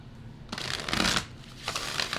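Tarot cards being shuffled by hand during a card reading, heard as two quick riffling bursts of papery flutter close up, separated by a short pause, with no talking.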